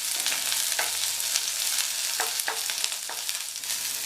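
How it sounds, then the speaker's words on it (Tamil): Green chillies, onion and garlic sautéing in a pan for tomato chana dal chutney, a steady close sizzle with a few sharp stirring scrapes scattered through, no talking. "பச்சை மிளகாய், வெங்காயம், பூண்டெல்லாம் ஓரளவு வதங்கியிருக்கு"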